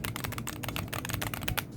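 Rapid, close typing on a Wooting 80HE keyboard fitted with aftermarket keycaps, a dense run of sharp, clacky keystrokes that goes on without a break for under two seconds, with no voices over it.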